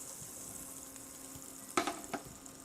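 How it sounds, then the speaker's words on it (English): Butter melts in a skillet over medium heat, giving a faint, steady sizzle with a few soft clinks and scrapes of a utensil near the end. "I'm melting the butter on a skillet, medium heat"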